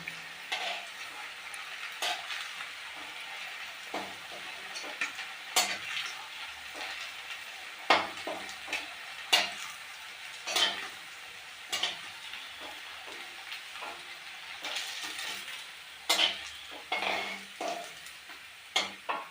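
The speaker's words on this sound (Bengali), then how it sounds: "আমি বাকি পেঁয়াজিগুলোকেও একইভাবে ভেজে নামালাম।" Onion fritters (peyaji) frying in hot oil give a steady, fairly quiet sizzle, punctuated by scattered clinks and scrapes of a utensil stirring and lifting them out of the pan.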